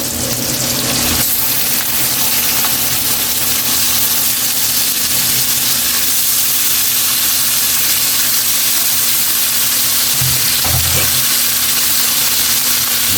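Pork frying in a pan with onion and chili: a steady, loud sizzle fills the whole stretch, with a brief stirring clatter near the start and a couple of soft knocks later.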